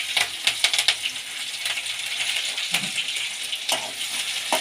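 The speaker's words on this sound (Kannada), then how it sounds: "ಎಣ್ಣೆಗೆ ಚೆನ್ನಾಗಿ ಫ್ರೈ ಆಗಲಿ." Chana dal, urad dal and green chillies fry in hot oil, giving a steady bright sizzle with scattered crackles and a few sharp pops near the start, close and alone.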